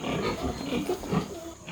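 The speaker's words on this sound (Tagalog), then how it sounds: "ito po yung mga baboy" Pigs grunting in a pen, a continuous cluster of low, rough grunts and snorts from several animals close by, with a steady noisy background.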